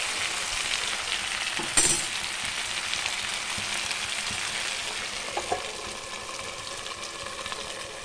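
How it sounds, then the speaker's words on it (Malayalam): Potato pieces fry in hot oil in a pan on low flame for a potato kondattam dish, giving a steady soft sizzle with a brief clatter of stirring near the start and faint scrapes later. "അതുകൊണ്ട് ഇടയ്ക്കിടയ്ക്ക് ഒന്ന് ഇളക്കി കൊടുക്കുക."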